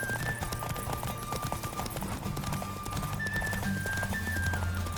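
A horse gallops during a race in The Witcher 3, rapid steady hoofbeats pounding throughout with brief tonal game sounds and faint background music, up close and continuous.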